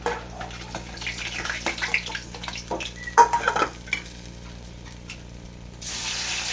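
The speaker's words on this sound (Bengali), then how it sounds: "মাছগুলো আমি তুলে নেবো" Fried pabda fish are lifted out of a pan of hot oil, with a metal utensil scraping and clinking against the pan in quick, uneven bursts over a faint sizzle, then a steady hiss.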